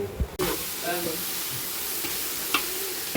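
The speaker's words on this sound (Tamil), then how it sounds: "தக்காளி போட்டு வதக்குது" Tomatoes sautéing in a pan hiss with a steady, close sizzle, broken by a few soft stirring scrapes and a brief clack, while a voice is briefly heard near the start.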